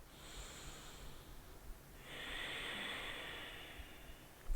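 A deep breath during a yoga session, heard as a soft nasal inhale followed by a longer, airy exhale, close and quiet with no talk.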